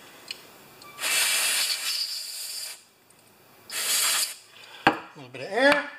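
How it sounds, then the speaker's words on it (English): Carburetor cleaner sprays from an aerosol can onto an old Husqvarna mower in two loud, hissing bursts at close range. Short clicks and rattling handling noises follow. "A little carb cleaner."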